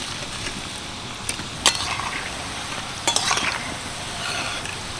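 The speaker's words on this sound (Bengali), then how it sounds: "প্রায় চার মিনিট মতো স্ন্যাক্সগুলো ভেজে নিয়েছি" Semolina and potato snacks frying gently in oil on low heat hiss softly and evenly, broken by a few short scraping stirs of a utensil in the pan.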